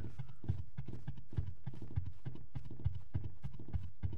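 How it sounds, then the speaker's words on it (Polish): Footsteps in the Roblox game Piggy, a steady rhythmic run of thudding clip-clop steps, evenly paced and fairly close, repeating throughout with no talk over them. "u Koli słychać kroki."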